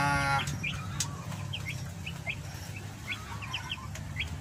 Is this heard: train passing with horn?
no